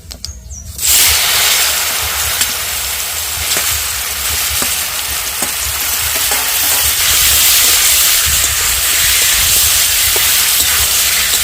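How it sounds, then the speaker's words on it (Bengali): Pieces of elephant apple drop into hot mustard oil seasoned with five-spice for a sweet-sour pickle, bursting into a loud, dense sizzle that holds steady and close for the rest of the clip. "এবারে চালতাগুলো দিয়ে দিচ্ছি"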